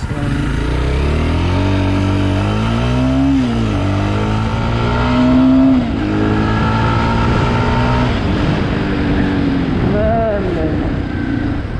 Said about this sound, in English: I'll just test the acceleration on this bike, and let's see how it goes.